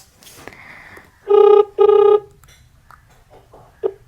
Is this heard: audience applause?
no